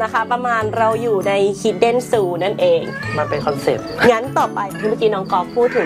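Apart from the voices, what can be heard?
cat meowing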